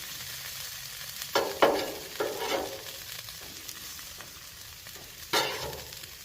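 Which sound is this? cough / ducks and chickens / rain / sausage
sausage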